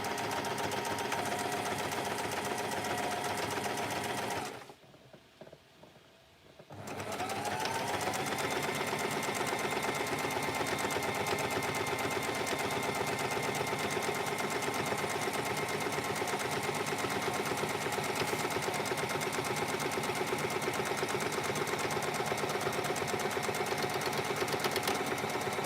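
Close up, a sewing machine stitches in a long, steady mechanical whir, briefly stopping and then restarting to run on evenly.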